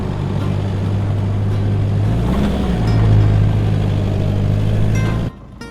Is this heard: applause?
no